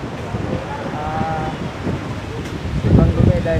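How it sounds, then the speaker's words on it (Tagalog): Gusty wind roars against the microphone near the shore, with a person talking over the blustery rumble that swells louder near the end. "Marami talaga ang lakas ng hangin dito."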